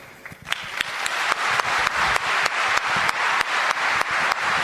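A church audience at a talk on the occult by Father Verlinde breaks into applause that quickly settles into loud, steady rhythmic clapping in unison, each beat sharp and regular, with no voices over it.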